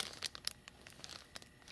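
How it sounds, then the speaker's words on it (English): Thin plastic crinkles in quick, light bursts, a handful of soft crackles close by at low volume with quiet gaps between them. "It's just a little clear plastic bag."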